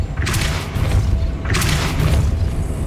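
Depulso spell impacts in the Hogwarts Legacy video game on PS5: two heavy booming blasts about a second apart, each with a bright burst over a continuous low rumble.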